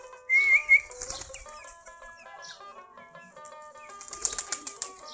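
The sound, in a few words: Deshi Giribaz pigeons walking and flapping after eating rice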